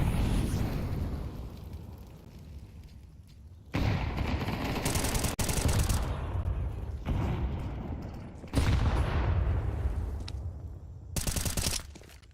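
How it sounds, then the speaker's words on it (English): Grenade blasts and gunfire in a Counter-Strike match, with bursts of loud, broadband explosions and rattling shots arriving in several separate waves over a rumbling background, no voices. "Decent nade exchange."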